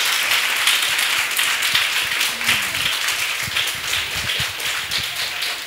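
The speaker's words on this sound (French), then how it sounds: "Sous vos applaudissements," Audience applause at a French live talk show on coaching, steady dense clapping throughout, fairly close and loud, with some sharper individual claps standing out and no speech.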